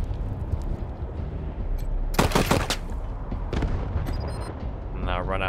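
Gunfire in Wasteland 3: a dense burst of rapid shots near the middle, standing out over a continuous rumble of battle noise, with a few scattered effects afterward.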